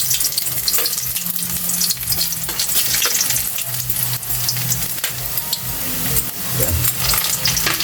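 Ginger sizzles in hot oil in a pan for adobong pusit, a loud, steady frying hiss with occasional stirring scrapes running throughout, no talking.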